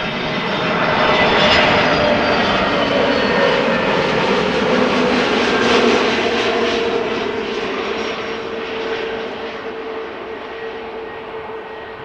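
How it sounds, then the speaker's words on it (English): A brand-new Airbus A320neo arriving at Amsterdam Schiphol from Prague roars past loud and steady, its jet engine whine swelling and then slowly fading over about twelve seconds with no voices. "A320neo arriving from Prague, where it left an hour and 9 minutes ago."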